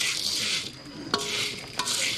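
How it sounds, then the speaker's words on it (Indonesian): Coffee beans are stirred and roasted in a pan in East Nusa Tenggara, Indonesia: a steady close hiss of sizzling with scraping and a couple of sharp clinks from the stirring, no voices. "Karena masuk begini ini dia putar dia goreng."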